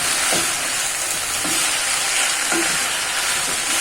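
Vegetables sizzle loudly on high heat as they are stirred into a red lentil stew. A constant hiss of frying carries brief scraping stir sounds and plays alone, close up.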